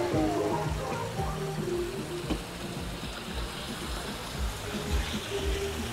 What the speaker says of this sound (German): Und der schicke Wasserfall.